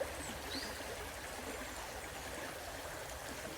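A small wild brown trout stream flows with a faint, steady rush and a soft babble that stays even throughout, with no voices.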